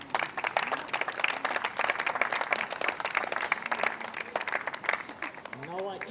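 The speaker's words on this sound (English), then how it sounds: "Please applaud for them." Audience applause breaks out at a wheelchair tennis prize ceremony at the NEC Wheelchair Masters, moderate, continuous clapping heard at a distance, with a voice briefly audible near the end.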